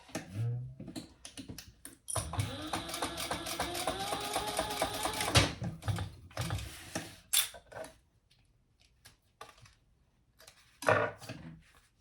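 A sewing machine bastes fabric in place for the Betsy Bowler sewing pattern. A sustained run of stitching lasts about three seconds, then short bursts follow, separated by quiet pauses and light handling clicks.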